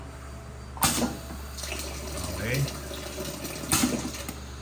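A single-head pneumatic liquid filling machine dispenses water, with two sharp hissing bursts of air and liquid flow a few seconds apart over a steady low machine hum, and a brief spoken word in between.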